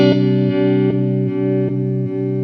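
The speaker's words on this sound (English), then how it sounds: "let's go through a pure square wave" A harsh, buzzy distorted guitar tone through a Chase Bliss Audio Wombtone MKII set to square-wave modulation sustains throughout, pulsing in a steady on-off rhythm about every 0.4 seconds as the effect chops the sound.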